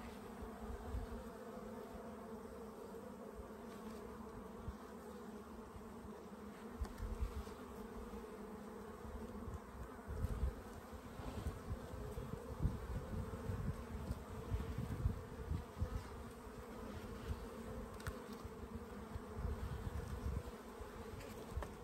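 Honeybees drone steadily around an open hive during a spring inspection, a dense continuous buzz filling the whole stretch at moderate, even loudness, with no talking.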